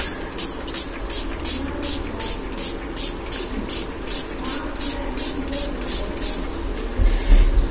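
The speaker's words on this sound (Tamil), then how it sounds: "ரோஸ் வாட்டர் இருக்கே அதை கொஞ்சம் ஸ்ப்ரே பண்ணிக்கிறேன்" Rose water sprayed from a spray bottle in quick repeated hissing bursts, a dozen or more close pumps in steady rhythm, with a low thump near the end.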